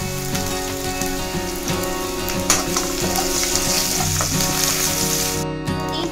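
Mustard seeds, cumin and garlic cloves sizzle and crackle in hot oil in a pan for a beetroot fry, a loud, continuous frying hiss with scattered pops and faint stirring.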